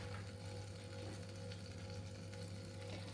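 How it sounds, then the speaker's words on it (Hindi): Butter sizzles and melts in a hot pot for one-pot pav bhaji, a soft continuous frying hiss at low level with no voices. "पॉट गरम है इसलिए बटर तुरंत ही पिघल जाएगा।"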